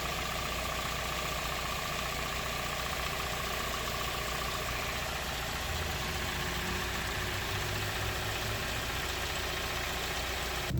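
A Kia Sportage engine idles steadily after an oil and filter change, with a low, even hum and faint rattle, constant from start to finish.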